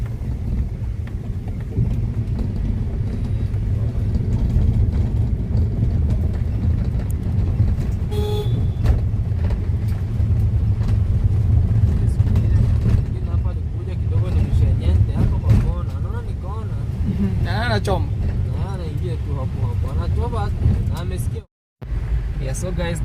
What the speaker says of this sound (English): The car is bouncing.